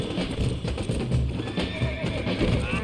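A horse whinnies loudly nearby amid rhythmic clip-clopping hooves in Red Dead Redemption, with faint sounds of movement throughout.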